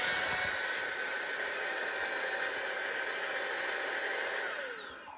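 A kitchen appliance fan on a home test-kitchen counter, switched on by its fan button, runs as a loud, steady high-pitched whine with a hiss and then spins down and fades near the end.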